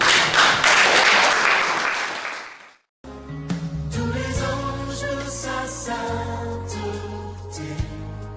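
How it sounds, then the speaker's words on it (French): A church congregation at a francophone service in London applauds in a dense, steady wash that fades away after about three seconds, followed by instrumental music starting up. "Est-ce qu'on peut applaudir?"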